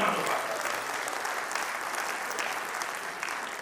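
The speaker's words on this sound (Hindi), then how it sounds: "तमाम लोग मिलकर के जोरदार तालियों से इस्तकबाल कीजिए अपने तमाम मेहमानों का" Sustained audience applause, a dense wash of many hands clapping steadily for about three and a half seconds to welcome guests at an inauguration event, with no talk over it.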